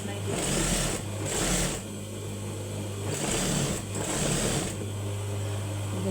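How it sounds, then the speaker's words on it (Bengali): A sewing machine stitches a double seam on a kameez, running in loud rhythmic bursts of whirring with short pauses between them, close by, while someone talks over it. "আমি কিন্তু ওই পাশে আমি আরেকটি ডাবল সেলাই দিচ্ছি"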